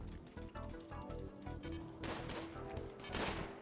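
Automated turrets open fire on raiders in the colony-building game Rimworld: dense rapid bursts of gunshots form a continuous fusillade that swells louder toward the end, with other game sounds layered underneath.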